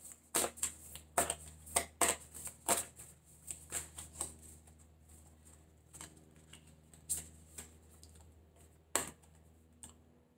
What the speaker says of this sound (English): And then I'm going to pull an oracle card too.